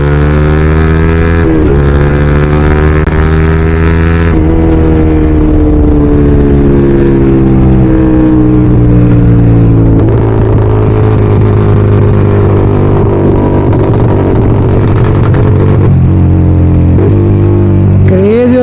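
A Yamaha R15 motorcycle with a Code 6 tune revs its engine, giving a loud, close exhaust drone that rises and falls in pitch, with scattered sharp pops breaking through.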